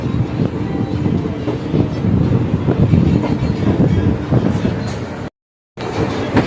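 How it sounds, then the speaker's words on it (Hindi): The Haridwar–Delhi express rumbles steadily as it pulls out of Meerut City station, a continuous close carriage roar with rhythmic rail clatter and a brief dropout near the end. "ट्रेन 7 मिनट रुकने के बाद निकल चुकी है यहाँ से, मेरठ सिटी से"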